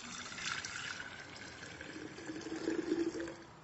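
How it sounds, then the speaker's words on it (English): Water pours steadily into a CafeSolo coffee brewer, a soft continuous trickle and splash with the filling tone rising slightly near the end. "I'm going to add a little bit of water here."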